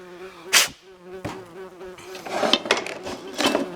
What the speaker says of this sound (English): Just to piss off wasp, will you?